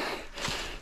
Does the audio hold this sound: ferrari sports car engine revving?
no